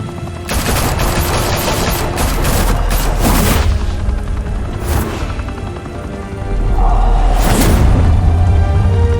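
Gunfire in The Batman Telltale Series, with loud sustained machine-gun fusillades and booming impacts rolling one after another, close and intense, in a heavy exchange of fire.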